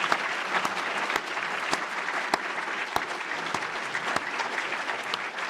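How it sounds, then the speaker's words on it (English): Audience applause at a National Academy of Medicine annual meeting as new members and fellows stand, continuous clapping with a few sharp, distinct claps standing out near the front. "We give you another round of applause"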